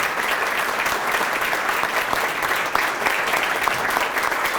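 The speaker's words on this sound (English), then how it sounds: "Let's give him a nice round of applause and say thank you for his service to the Yonkers School District." Audience applause at a school district valedictorian and salutatorian breakfast, steady dense clapping from a full room honoring a retiring official, sustained at even loudness throughout.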